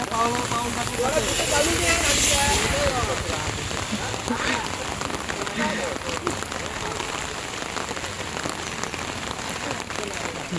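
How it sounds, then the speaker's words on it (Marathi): Steady heavy rain pours and patters on surfaces throughout, a dense continuous hiss with occasional louder drops nearby. "आज पाऊस जास्त असल्यामुळे"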